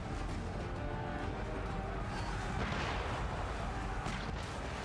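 Homing mortar barrage in Assassin's Creed III, a dense rumbling wash of booms and gunfire that stays loud and steady throughout, with a bright burst near the middle.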